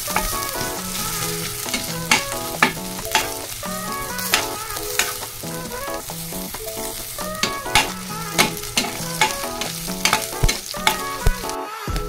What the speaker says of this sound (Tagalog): At i-brown muna natin itong luya natin